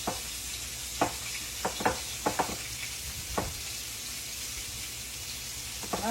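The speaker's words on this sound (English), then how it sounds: "Fry those 2 pieces, and then we'll fry these 2 pieces." Cube steak frying in a pan on a stove turned down to about medium-high, with a steady background sizzle broken by several sharp clicks and scrapes of a utensil at irregular intervals.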